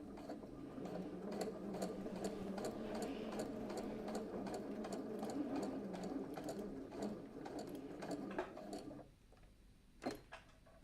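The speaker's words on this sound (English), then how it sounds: "You're going to want to sew it right on the edge." Sewing machine stitching a shirt seam, a steady close rattling hum that runs for about nine seconds before stopping, followed by a few faint clicks.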